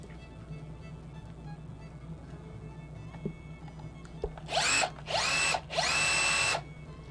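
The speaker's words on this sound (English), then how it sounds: "let's slap this in the drill and just see if we get anything." A Bosch cordless drill runs on a repaired lithium battery pack, whirring loudly in three short bursts with brief pauses between them, heard alone over a quiet workshop background.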